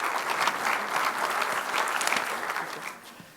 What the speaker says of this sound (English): Can we have a big round of applause and let's welcome with a warm.